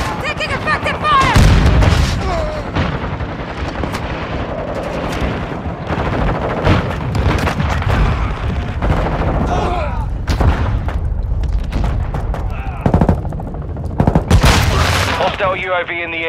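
Heavy gunfire crackles in Call of Duty Modern Warfare 2 on PS5, with machine-gun bursts, single shots and booming explosions overlapping for the full length. Radio voices speak under the firing.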